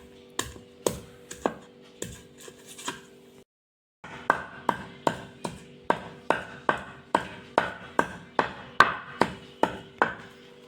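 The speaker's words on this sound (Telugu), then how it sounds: "ఇప్పుడు ఈ అల్లం ముక్కను నున్నగా దంచుకోవాలి" A piece of ginger pounded smooth in a kitchen, a close series of about twenty sharp, evenly paced thuds with a brief pause early on, then a quicker steady rhythm.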